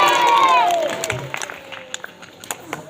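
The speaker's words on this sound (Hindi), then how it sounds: "एक बार ताली बजा के बोलेंगे।" A congregation at a Ram Katha religious discourse starts clapping after a fading sung or voiced tone; the claps come as scattered, uneven bursts with faint cheering.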